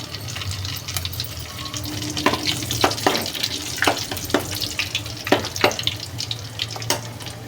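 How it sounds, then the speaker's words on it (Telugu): Garlic and broken dried red chillies sizzle in a pan for a bottle gourd curry, a steady close frying hiss with a few sharp scrapes and spoon clinks scattered through, no talking. "వెల్లుల్లి కొంచెం వేగాక 2 ఎండుమిర్చి ఇలాగా తుంచుకొని వేసుకోవాలి."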